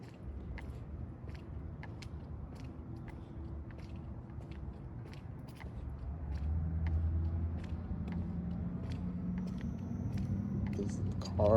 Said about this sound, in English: This car is coming up behind me.